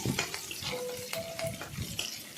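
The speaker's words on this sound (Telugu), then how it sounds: "ఒక టేబుల్ స్పూన్ జీలకర్ర టూ టేబుల్ స్పూన్స్ పల్లీలు రెండు ఎండుమిరపకాయలు రెండు పచ్చిమిరపకాయలు తీసుకుని ఫ్రై చేసుకోవాలండి" Cumin seeds, peanuts, dried red chillies and green chillies sizzle and crackle in hot oil in a pan, a continuous close frying hiss with small pops and stirring noises, no talking.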